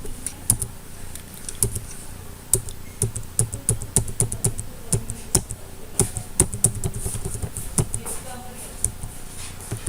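Someone typing an amount into accounting software on a computer keyboard, with close, loud clusters of key clicks in bursts and irregular rhythm and nobody talking.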